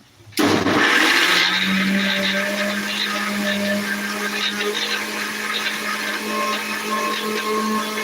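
A mixer grinder whirs steadily as it blends onion with a little water for a home-style chicken fry, starting abruptly and running loud and continuous with a low motor hum.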